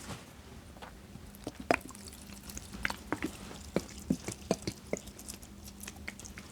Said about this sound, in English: Let's add some water.